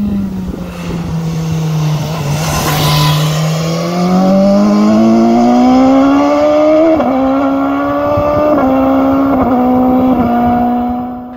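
BMW S1000XR motorcycle, a 2020 model fitted with a new exhaust, roaring loudly and steadily, its engine pitch climbing gradually and holding high with a few small shifts, with no voices over it.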